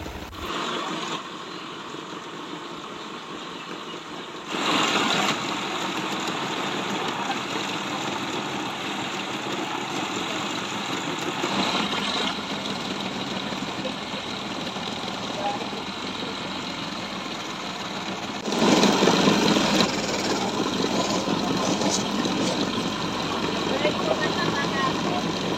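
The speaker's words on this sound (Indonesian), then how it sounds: "Kemudian, singkong diparut menggunakan mesin." A motorized machine grates cassava with a continuous droning whir that shifts in intensity, under a narrator's voice speaking Indonesian.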